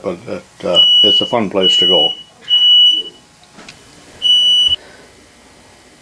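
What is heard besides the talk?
smoke alarm going off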